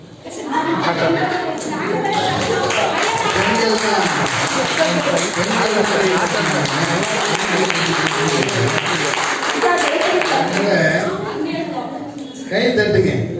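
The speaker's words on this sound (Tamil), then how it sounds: "கை தட்டுங்க, சரியா?" An audience at a school event in Bangalore claps together in a sustained burst of applause over a crowd's murmur and chatter, fading near the end before a short renewed clap.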